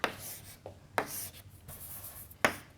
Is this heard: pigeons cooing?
no